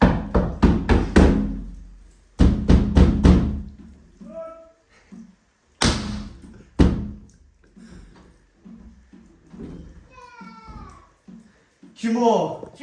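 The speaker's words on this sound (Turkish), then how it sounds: "Ne lan kapıyı kırıyorsun?" Heavy fists pound hard on the door of a village house: a fast run of loud, close blows, then a second burst and a couple of single bangs, with voices talking in the gaps between.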